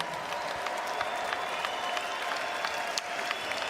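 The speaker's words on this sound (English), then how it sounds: "let's get a nice round of applause out here, please, for both of these fighters" An arena crowd applauding both boxers after a twelve-round fight at the O2 Arena, a continuous spread of clapping with a few louder claps standing out.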